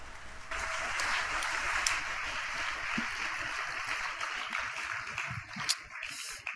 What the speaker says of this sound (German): noch einmal richtig laut in die Hände klatschen, während jemand auf die Bühne kommt